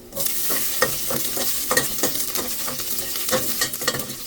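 Pork with garlic and onion sautéing in a little oil for pork nilaga, a steady close sizzle broken by repeated scraping stirs of a utensil in the pan, with no talk.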